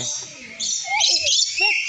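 Bright chirping bird calls at a safari park, a few short high notes in quick succession, fairly close, over faint background noise.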